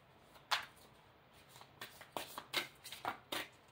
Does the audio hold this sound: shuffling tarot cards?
yes